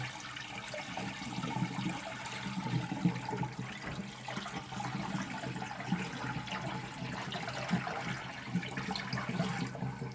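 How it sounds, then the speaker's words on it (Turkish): Murky water from a cleaned aquarium internal filter is poured out into a bucket, giving a steady, continuous splashing and gurgling flow that stays close and even throughout, with no talking. "şu anda suyumuzu döküyorum"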